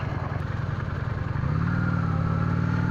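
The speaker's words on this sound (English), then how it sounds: "So I ride a 1994 Honda Shadow VLX 600." A 1994 Honda Shadow VLX 600 motorcycle rides a rough road. Its engine throbs with a steady low pulse, then rises to a fuller, louder drone about halfway through, with no talking.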